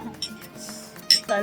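Glasses clink together in a toast aboard a sailing yacht in the Bahamas, with a couple of bright, close chinks around quiet background chatter.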